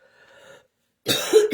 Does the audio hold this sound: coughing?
yes